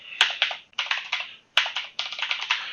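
A Terraform command is typed on a computer keyboard in quick, close clicks, in two runs of keystrokes separated by a short pause, with no voices.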